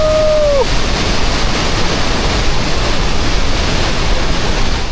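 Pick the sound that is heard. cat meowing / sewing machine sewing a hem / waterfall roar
waterfall roar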